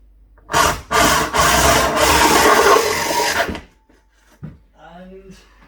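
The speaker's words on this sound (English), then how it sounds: "So I'm going to drill from underneath now just to finish that off." A drill bores from underneath up into a wooden cupboard to cut a 40mm hole for a pop-up power socket, giving a loud grinding, rasping burst of about three seconds that stops abruptly, followed by a quieter pause and a short spoken remark.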